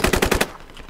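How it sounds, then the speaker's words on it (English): Rapid automatic gunfire in the video game Squad, a burst of about six loud, evenly spaced shots lasting under half a second, followed by quieter ambient noise and a faint distant pop. "Shot him in the face."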